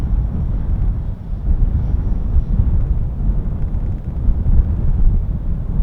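A strong crosswind buffets the microphone at an RC jet airfield, loud, continuous low-frequency rumble and thumping gusts filling the whole stretch without speech.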